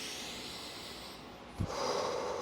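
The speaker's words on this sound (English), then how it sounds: "You're breathing with your chest" A person demonstrates exaggerated vertical chest breathing, drawing one sharp, loud inhale close to the microphone after a quiet stretch of background noise.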